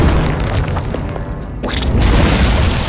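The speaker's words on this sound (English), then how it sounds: "I will Consecrate here." A Consecrate spell effect in Hearthstone plays as a deep, booming burst with a rumbling swell, short and loud, with no talk over it.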